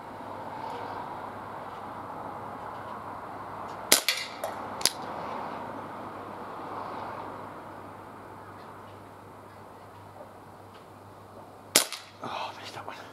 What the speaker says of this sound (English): I'm trying to shoot this reasonably slowly, give the CO2 a bit of a chance to recover.